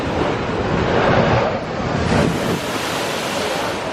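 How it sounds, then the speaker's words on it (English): Huge ocean waves surge and crash at the blowholes in Tonga, a continuous broad roar of surf with wind buffeting the microphone, loud and close, with no voices. "These waves are huge and they're beautiful."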